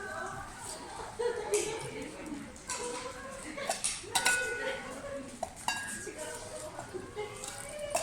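Dishes clink and clatter close by in an irregular scatter of knocks and rattles, with people talking under the noise.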